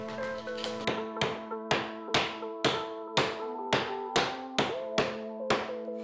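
A hammer tapping wooden pieces of a circular canvas stretcher together, about a dozen sharp, evenly spaced ringing knocks with short resonant decays, close and clear.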